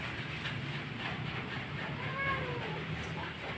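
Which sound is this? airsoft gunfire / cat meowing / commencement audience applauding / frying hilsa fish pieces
cat meowing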